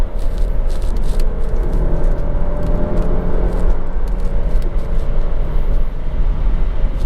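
A 2018 Alfa Romeo Stelvio SUV with high mileage, driven in 4th gear through corners, gives a steady loud engine drone with road and wind noise, continuous and close, no talking.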